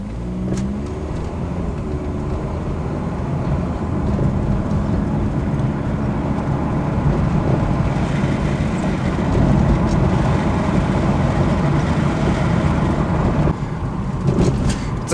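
Ford Escape driving after fresh transmission fluid, engine droning and rising through gears with smooth shifts, cabin road noise steady throughout, no speech.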